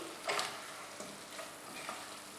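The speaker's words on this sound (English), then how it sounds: "Stir them once in a while so that they don't catch on the bottom." Spiced dry potatoes are stirred in a pan, giving soft scraping strokes of a spatula over a faint steady sizzle, with a few scrapes that stand out more clearly.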